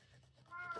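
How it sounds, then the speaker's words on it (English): A pet cat demanding attention lets out a short meow near the end after a quiet, murmuring start, heard close by and alone. "sadly that's my cat wanting some attention."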